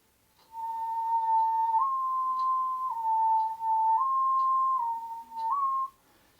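A warbling whistle made by tapping the tongue against the palate, a clear steady tone that steps up and down between a few pitches in close, loud bursts with brief gaps, alone.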